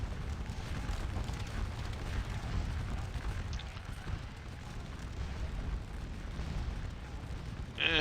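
Artillery guns in the Scourge of War Remastered battle game keep up a continuous low rumbling barrage of booms, dense and steady throughout with a sharper burst at the very end.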